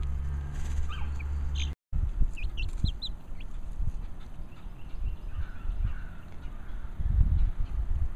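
Chickens in a coop cluck and murmur softly nearby while pecking, with scattered short calls over a steady outdoor background.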